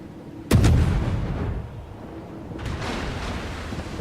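Ship cannons firing in the naval game World of Warships: one sudden, loud, close boom with a rolling rumble, then a second, softer blast a couple of seconds later.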